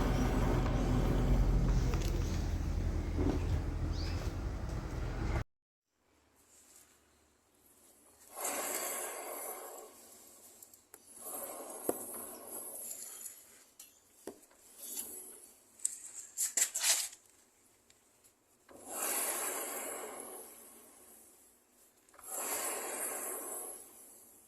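A Yamaha Nmax scooter's rear wheel after a CVT replacement gives off a loud burst of mechanical noise at first, then several separate bursts of hissing, scraping noise with quiet gaps between.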